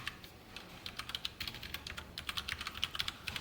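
Light, quick keystrokes on a computer keyboard tap in an uneven run of soft clicks while a short line of Python input text is typed, close and quiet with no voices.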